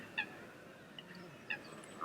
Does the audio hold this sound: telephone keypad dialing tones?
no